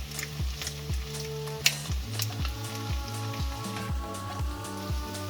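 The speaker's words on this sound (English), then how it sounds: "Pour the soy sauce mixture over the potatoes and stir-fry for an additional 1 to 2 minutes until the sauce is well distributed." Potatoes with pancetta stir-fried in a soy sauce mixture, a steady sizzle broken by repeated scraping strokes of a utensil in the pan, close and moderately loud with no talking.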